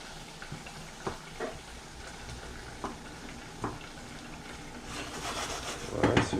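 Onions frying in a pan, a steady low sizzle broken by occasional scraping knocks as they are stirred, with the sizzle growing louder and busier near the end.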